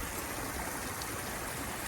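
A garden waterfall feeding a pond gives a steady, even rush of falling water, soft but continuous, with no other sounds over it.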